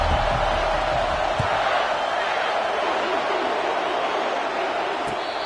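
A stadium home crowd roars steadily in EA Sports College Football, a dense, continuous wall of cheering at moderate loudness with no clear breaks, spread evenly across the whole stretch.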